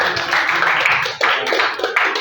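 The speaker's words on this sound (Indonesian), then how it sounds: "kita beri tepuk tangan." Dense applause from a crowd, steady clapping filling the whole moment with a brief dip midway.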